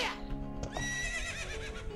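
A horse in the video game The Legend of Zelda: Ocarina of Time gives a single loud, wavering whinny, fairly close over a low in-game background hum.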